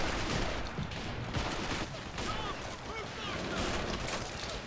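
Mortar shells and gunfire pound away in the Men of War Valkyrie mod strategy game, a dense, continuous barrage of distant explosions and crackling shots under a commentator's voice.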